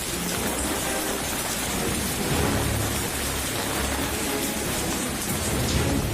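Heavy cyclone rain pours down in a constant roar, with low rumbling swells of thunder rolling underneath; loud, dense and unbroken, no voices.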